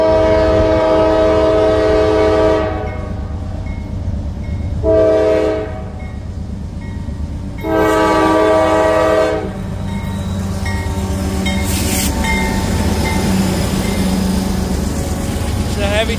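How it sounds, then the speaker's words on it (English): A heavy freight train loaded with steel coils climbs a steep grade, its horn sounding in several long blasts over a constant deep rumble of engines and rolling cars, with a person talking nearby. "Heavy train climbing the hill"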